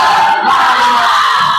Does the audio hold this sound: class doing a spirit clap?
yes